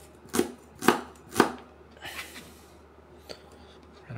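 Onions are chopped on a cutting board for cooking, three loud, evenly spaced knife chops up close, then softer cuts and a faint tap.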